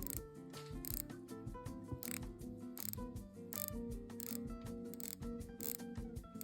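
A 60-click bezel on a 40mm vintage-style watch is turned by hand, producing a fast, steady run of soft, muted ratcheting clicks close to the microphone, with no voices.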